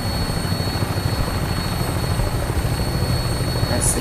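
Vertibird aircraft engine in the video game Fallout 4: a steady, loud rotor-and-turbine drone with a continuous rhythmic throb, unbroken throughout.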